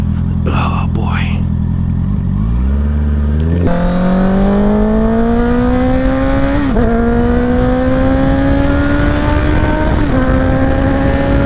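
A 2021 Honda CBR650R motorcycle engine revs and settles into a steady, rising drone during a slow U-turn on a road, loud and close with clear pitch shifts as the rider works the throttle and gears.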